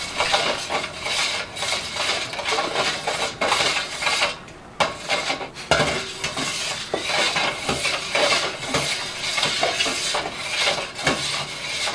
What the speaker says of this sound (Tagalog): haluin lang po natin hanggang sa wala na po kayong ma-feel na asin sa bottom ng ating planggana